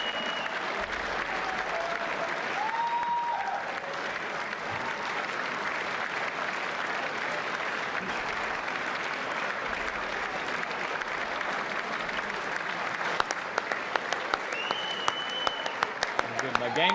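Sustained crowd applause, a continuous dense patter of clapping that holds steady for the whole stretch, with a few sharper claps near the end.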